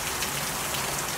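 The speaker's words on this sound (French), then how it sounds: "D'ailleurs, vous voyez, ça s'accélère la pluie." Steady rain falls continuously, a dense even hiss of drops pattering on a surface with no voices, loud and close throughout.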